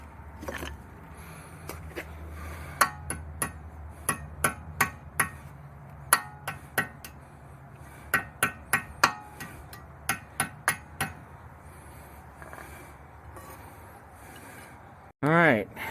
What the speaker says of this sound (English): Let's hammer it in.